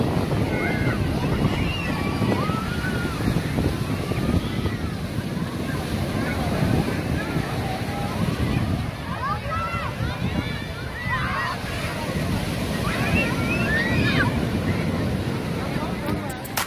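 Sea waves wash onto a crowded beach near Nghinh Phong Tower in Phu Yen. Steady surf hiss mixes with gusty wind buffeting the microphone while people talk nearby.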